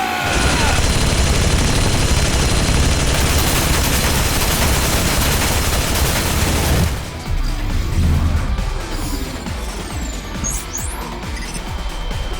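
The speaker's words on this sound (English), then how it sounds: "Did you just shoot at me?" A loud, dense burst of gunfire with crashing impacts in the game AI: The Somnium Files, a thick wall of shots for several seconds that then thins out into scattered softer noise.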